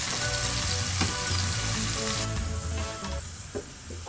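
Scotch bonnet pepper and vegetables fry in a pan for a Jamaican bully beef dish, giving a close, continuous sizzle under a low rumbling hum, with the hiss easing off toward the end.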